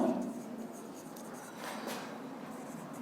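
A teacher writes on a board, producing soft scratchy strokes at a low level. A voice speaks over the writing.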